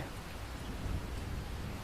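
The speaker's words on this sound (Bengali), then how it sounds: "মনে হচ্ছে ক্ষণে ক্ষণে বৃষ্টির ধারা যেন আরও বেড়ে চলেছে" Heavy night rain in a Bengali horror cartoon pours steadily in a dense, even wash of noise, unbroken and fairly close, with no voices.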